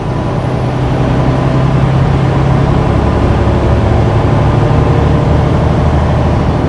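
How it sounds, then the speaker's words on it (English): A heavy truck's diesel engine downshifts on the highway, a loud, close, continuous low drone that holds steady throughout with no voices over it. "Yeah, a lot of downshifting."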